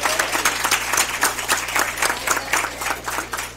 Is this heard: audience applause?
yes